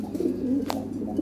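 A Lahri Siraji pigeon coos close by in a soft, low, continuous burble, with a brief sharper note partway through the short stretch.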